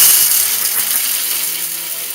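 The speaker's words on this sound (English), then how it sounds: "I'm putting them into my spice grinder, and I'm just going to grind them up" A spice grinder grinds coffee beans for homemade coffee-flavored chocolate, giving a steady, loud, high-pitched whirring buzz that runs continuously with no talk.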